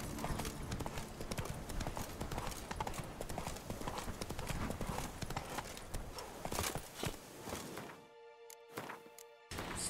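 Horse hooves gallop in The Witcher 3: Wild Hunt, a rapid, continuous clip-clop that is dense and steady, then breaks off near the end into a few separate thuds.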